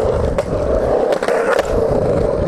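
Worn, resurfaced skateboard wheels roll steadily over rough pavement, a continuous gritty rumble with a few brief clacks, close and fairly loud throughout.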